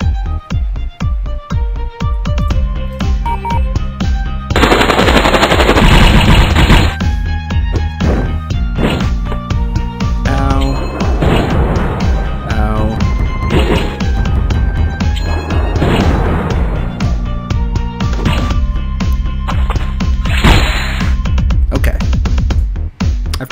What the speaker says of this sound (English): Use and abuse Tank Guns.